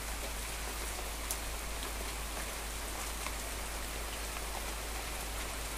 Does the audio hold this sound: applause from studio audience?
no